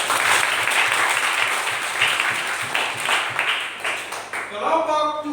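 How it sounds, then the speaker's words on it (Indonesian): A classroom full of people clapping steadily for a student group for several seconds, fairly loud and dense, with voices starting up in Indonesian as it fades at the end. "Oke, tepuk tangan buat kelompok."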